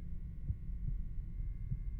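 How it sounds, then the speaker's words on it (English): A heartbeat in the horror game Buried Beneath, low muffled thumps pulsing at a steady, slightly uneven pace under a constant droning hum, with no talk. "Why is my heart beating?"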